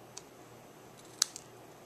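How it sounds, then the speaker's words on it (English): Scissors snip a small paper tag: a faint tick, then one sharp close clip followed by a softer snap, quiet and alone against near silence. "what I do is I just clip it close using scissors"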